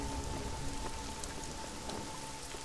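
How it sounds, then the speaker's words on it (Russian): Steady rain in the video game Deus Ex: Mankind Divided, set in Prague, patters continuously, a soft even hiss of falling drops with no voices. "Дождь не прекращается."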